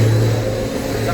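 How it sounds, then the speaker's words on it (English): A steady, loud mechanical drone of a running forage chopper, with a low engine hum and constant rumble throughout. "the chopper is running a lot better after that"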